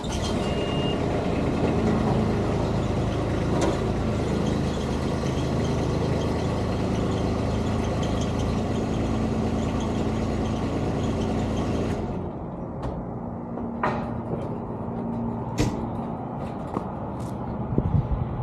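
A plow truck carrying a BOSS 9'2" DXT plow idles with a steady, low engine rumble while the plow lifts. Reversing-style beeps sound over it, and the drone drops quieter partway through, followed by a few sharp clicks.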